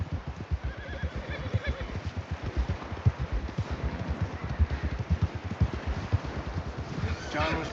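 A horse in the Red Dead Redemption 2 video game neighs while its hooves clip-clop in a quick, steady rhythm throughout, with wind and voices speaking over it.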